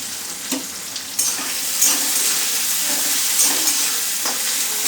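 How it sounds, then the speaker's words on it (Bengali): Ginger, onion and green chillies frying in a pan, a steady close sizzle with occasional stirring scrapes and small spatters throughout, no talk. "একটু ভাজা ভাজা করব"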